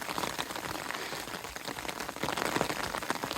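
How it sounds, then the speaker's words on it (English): Steady rain patters densely on the surroundings while hiking on the Pacific Crest Trail in Washington, a close, continuous hiss of drops with no one speaking. "And we're back in the rain."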